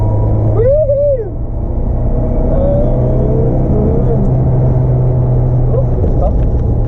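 A 1976 Peugeot 204 drives through a corner with a steady, loud engine drone from inside the car, rising as power is applied, while a person talks.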